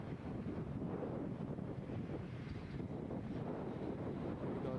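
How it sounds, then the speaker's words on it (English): Steady, blustery wind buffets the microphone in a continuous low roar at a cricket match, with no pauses and no voices. "It's cold and windy out here."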